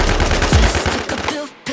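Rapid bursts of automatic gunfire from the video game Infestation, loud and close, rattling in quick succession before a brief pause and another burst.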